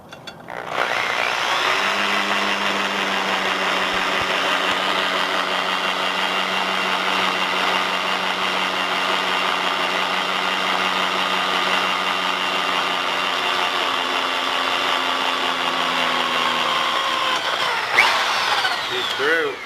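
A steady, loud whine of a drill with a high-speed steel bit running continuously for many seconds, then winding down near the end.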